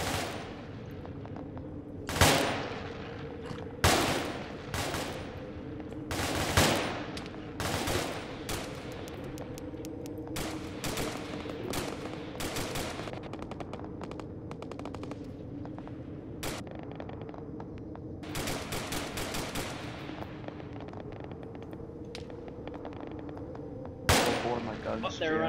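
Bursts of rifle and machine-gun fire ring out in the military shooter Arma, sharp cracks and rattling volleys scattered through the scene, some near and loud, others distant, with occasional talk between them.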